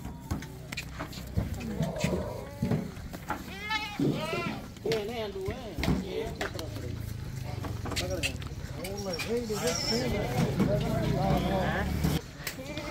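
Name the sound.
goat bleating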